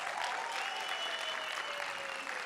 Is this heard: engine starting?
no